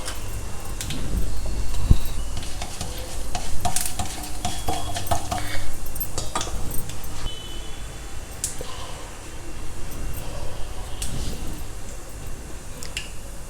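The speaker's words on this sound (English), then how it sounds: "when the oil is hot, add some mustard seeds, Urad Dal, Jeera, a little bit of Channa Dal" Mustard seeds, urad dal, jeera and channa dal sizzle and crackle in hot oil in a home kitchen pan, a steady close frying hiss broken by sharp pops and light utensil clinks, with no talk.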